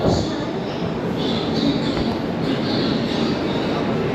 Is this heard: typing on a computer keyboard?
no